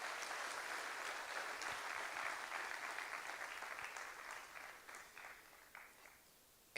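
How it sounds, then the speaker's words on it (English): An audience applauds a speaker at a talk event with steady, fairly distant clapping that thins out and fades toward the end, followed by a sudden loud sound at the very close. "One more round of applause for Scott Davis,"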